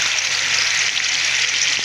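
Onion and garlic paste hits hot oil in a wok, giving a bright, even, continuous sizzle close up with no talking.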